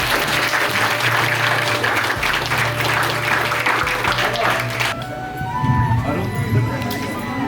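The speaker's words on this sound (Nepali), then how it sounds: "सबैजना ताली बजाउनु" Applause rings out through a Christian wedding ceremony, a dense crowd clapping loudly for several seconds before it thins out and voices take over.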